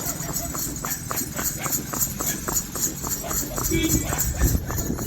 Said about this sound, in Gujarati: તો મિત્રો ધીમે ધીમે ઘોડીઓ હાંકી જાય છે બે